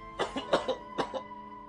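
A person coughs in a quick cluster of about four short, harsh bursts, close and fairly loud, with no talk around them.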